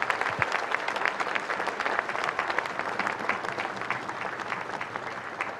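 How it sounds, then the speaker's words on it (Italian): An audience applauds during a televised religious procession honoring Saint Anthony, with steady dense clapping filling the whole stretch at moderate loudness and no talk over it. "meritano un applauso anche loro"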